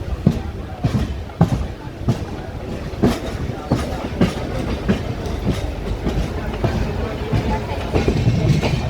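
Rolling clickety-clack of a goods train of gas tankers on the Konkan railway at Ratnagiri, steady rhythmic wheel beats over rail joints with a continuous low rumble, close and fairly loud throughout.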